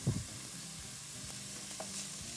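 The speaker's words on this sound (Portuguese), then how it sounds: "Para o alho dar uma fritadinha junto com a calabresa aqui" Minced garlic and ground calabresa sausage fry in a pan with a soft, steady sizzle, a few stirring scrapes breaking through near the start and around the middle.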